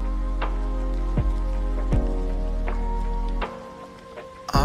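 Rain falls during a road trip on the Mumbai–Pune Expressway, a soft patter of drops over a steady low rumble of the moving vehicle that cuts out near the end, followed by a few sharp knocks.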